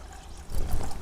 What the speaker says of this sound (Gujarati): દોણીમાં છાશ મસ્ત ઠંડી ઠંડી ભરેલી એ આમાં નાખી દેવી છાશ